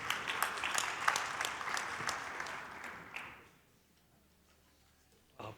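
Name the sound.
congregation applauding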